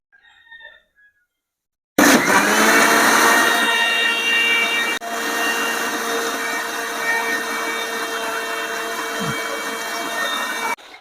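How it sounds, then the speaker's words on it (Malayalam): A kitchen mixer grinder blends raw mango with water into juice, starting abruptly after a short quiet moment and whining loud and steady for about nine seconds before cutting off. "ഇനി ഞാൻ മിക്സിയിൽ നല്ലപോലെ ഒന്ന് അടിക്കാൻ പോവാണ്."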